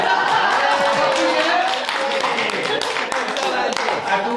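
Wedding guests at Ness Castle Lodges and Culloden House Hotel clap steadily in a room full of voices, the loud clapping blending with crowd chatter throughout.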